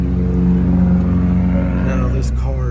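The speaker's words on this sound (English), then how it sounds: "Now let's start this car up and see everything." A Porsche Macan S engine runs with a deep, steady, loud rumble and a low humming drone, heard from close range with little change in pitch.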